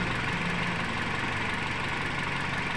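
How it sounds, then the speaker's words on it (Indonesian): A Toyota Altis engine idles with its battery terminal loose, giving a steady, even mechanical hum with a faint knocking texture, close up and unbroken, with no talking. "kepala baterai longgar tapi masih menyatu karena ini mesin masih hidup ya, mesin masih hidup"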